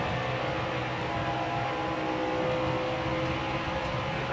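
Race truck engine from NASCAR Heat 4 held at full throttle on the Atlanta oval in a Gander Outdoors Truck Series race, a loud, steady droning roar with no break.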